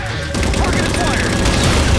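A railgun fires in Halo 4 combat, a loud booming blast that opens the clip and rolls into dense explosive fire and rumbling that last the whole two seconds.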